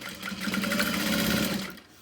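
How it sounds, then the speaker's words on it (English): A sewing machine runs a steady continuous stitch along one side of a fabric wristlet, close and even for about two seconds before trailing off at the end. "I'm just going to stitch along one side and come back"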